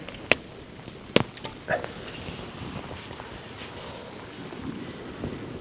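Campfire of wet wood burning outdoors in miserable weather, giving sharp loud pops and crackles at scattered moments over a steady hiss and low rumble of wind.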